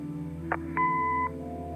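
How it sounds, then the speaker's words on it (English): A short electronic chirp is followed by a single steady, clean answering machine beep from a video game, lasting about half a second over a low background hum. "Leave a message after the beep."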